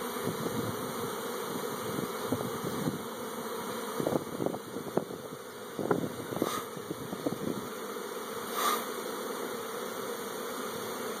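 A freshly captured honeybee swarm, stirred up after being picked up, buzzes as a continuous close drone. Scattered bumps and brief rustles come through over it, with a faint steady hum behind.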